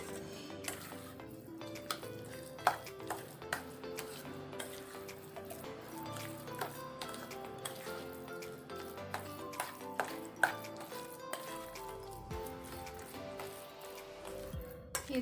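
Suji (semolina) batter being stirred and mixed in a bowl, with repeated soft scraping and sloshing strokes plus occasional sharper clinks of a utensil against the bowl, steady and close.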